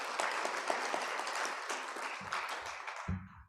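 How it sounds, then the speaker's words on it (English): Audience applause fills a conference hall at a financial inclusion forum, steady dense clapping that holds for several seconds before fading out, with a brief murmur of voices near the end. "I want you to just give yourselves and the partnership a round of applause"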